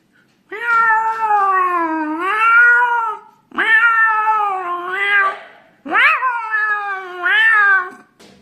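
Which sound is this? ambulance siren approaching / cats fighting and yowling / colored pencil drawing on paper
cats fighting and yowling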